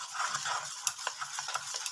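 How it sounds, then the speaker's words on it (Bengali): A spoon stirs batter with baking powder for veg chitai pitha in a bowl. It makes quick, repeated scraping and clicking strokes in a brisk, uneven rhythm, close and clear, with no talking. "খুব ভালো করে মিশিয়ে নেব"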